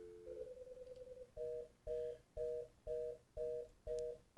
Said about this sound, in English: and then I dial this number